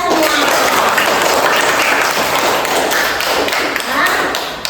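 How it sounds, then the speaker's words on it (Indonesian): A group claps in a classroom lesson during a teacher-training performance test. The clapping is dense, loud and continuous for nearly five seconds, with some tapping thumps mixed in, before trailing off. "Tepuk tangan untuk kita semua."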